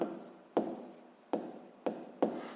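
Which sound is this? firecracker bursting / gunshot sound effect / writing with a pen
writing with a pen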